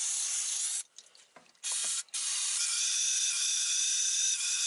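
Cleaner sprayed through the oil passages of an RB25DET crankshaft during an engine build: a loud, steady high-pitched hiss from a nearby aerosol nozzle, broken by two short gaps, then continuing to the end.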